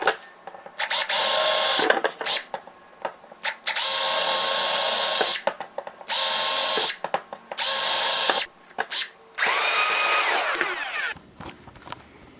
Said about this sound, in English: I'm just gonna use the drill.